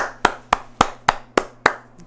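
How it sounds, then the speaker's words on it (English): Six sharp soundboard claps land one by one at an even, deliberate pace, each distinct and crisp against a low steady hum. "Round of applause again."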